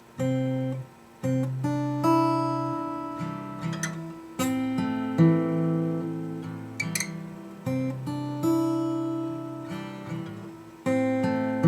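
Fingerpicked acoustic guitar plays a repeating chord pattern from a song, fifth and second strings plucked together, notes ringing with brief pauses between phrases, close and clear with no talking.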